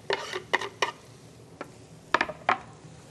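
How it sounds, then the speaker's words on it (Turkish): Onion and garlic being stirred in a pan as they sauté, a series of clattering scrapes and knocks from the utensil against the pan, irregular and close, no voices. "şimdi soğan ve sarımsağı beraber karıştıralım"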